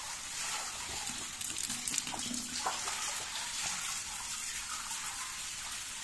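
Water pours steadily from a newly drilled deep borehole, a constant hissing gush heard up close with no talk over it.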